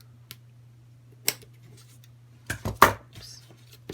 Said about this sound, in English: So if I snip it there,